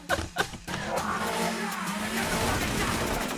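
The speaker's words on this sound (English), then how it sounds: "There's our car chase." A film car chase plays with a car engine roaring and revving, tires squealing and skidding, and a few sharp impacts at the start, followed by a steady, dense rush of engine and road noise.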